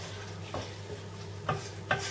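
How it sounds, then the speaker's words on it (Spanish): Vinegar and white wine being stirred in a pot: a soft steady wash with a few brief scraping clinks of the spoon against the pot, fairly quiet and close, no talking. "Lo removeremos un poco y lo vamos a poner a hervir"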